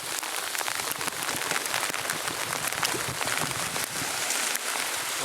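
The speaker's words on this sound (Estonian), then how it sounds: "Rahe! Päris lahe." Hail falls outdoors in a steady, dense rattle of countless small impacts, a loud continuous patter that holds evenly for several seconds with no talking.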